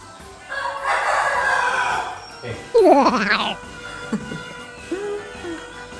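A rooster crows nearby, a loud, wavering call rising and falling, followed by a few softer clucks against a faint background hiss.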